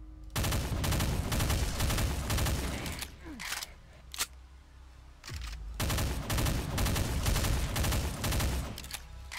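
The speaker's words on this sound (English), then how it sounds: "Assault rifle. Cool. Oh, it's burst fire?" Assault rifle in burst-fire mode in a Doom slaughter map, rapid loud volleys of shots repeating in clusters, with a short lull around the middle before the firing resumes steadily.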